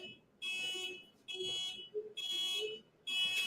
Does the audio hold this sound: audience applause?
no